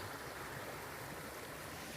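A stream runs beside a farm lot, its water murmuring in a faint, steady wash that holds without a break through the short stretch.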